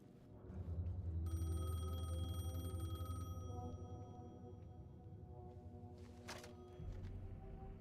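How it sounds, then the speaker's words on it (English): In the video game Alan Wake 2, a payphone rings with a faint, steady electronic tone for about two seconds over a low droning ambience, followed by a dull thunk. "The payphone was ringing."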